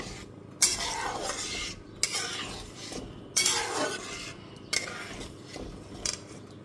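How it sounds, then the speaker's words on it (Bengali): A spoon scrapes and knocks around a pot of dal with green chillies and a pinch of sugar, making several distinct stirring strokes with soft clinks between short pauses, close and unvoiced. "এরপর সব কিছু খুব ভালো মতো একটুখানি মিশিয়ে নিলাম"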